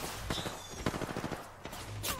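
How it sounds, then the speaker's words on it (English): Rapid gunshots in Apex Legends, a faint string of clustered shots from automatic weapons with short pauses between bursts. "They spotted me. I'm taking shots."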